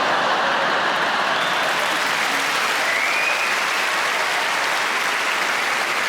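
An audience at a live stand-up comedy show claps in a steady, dense wash of applause that stays loud and even throughout.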